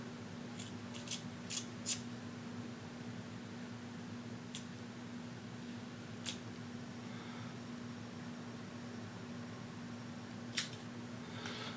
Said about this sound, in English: And we'll trim these ends too.